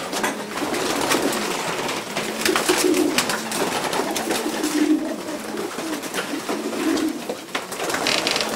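Pigeons coo inside a loft of racing pigeons, their soft repeated low calls overlapping in a steady, close chorus with rustling and shuffling between them.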